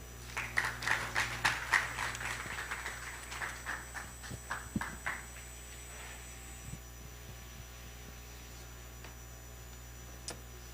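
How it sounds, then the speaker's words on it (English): An audience at an international AI education summit applauds a speaker being welcomed on stage. The distinct, rhythmic claps thin out and die away after about five seconds, leaving a low room hum. "let us give a warm round of applause for Mr."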